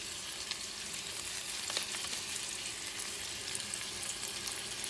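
Caramelized onions and garlic frying in a pan with thyme added give a steady, close hiss and sizzle, with small crackles and faint stirring scrapes running through it.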